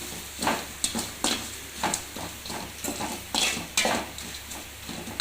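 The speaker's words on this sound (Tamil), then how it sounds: "எல்லாத்தையுமே போட்டுக்குங்க ஒரு வதக்கு வதக்கிக்கலாம்" Ingredients with curry leaf powder being sautéed in a pan, a spatula scraping and knocking against the metal in repeated strokes roughly every half second over a soft sizzle, close by and with no voices.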